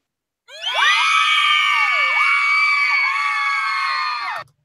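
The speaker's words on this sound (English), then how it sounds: "the ladies are cheering because they are anticipating their return next week" A crowd of women cheers and screams as a played sound effect, starting abruptly, holding a loud sustained chorus of high shrieks and whoops for about four seconds, then cutting off sharply.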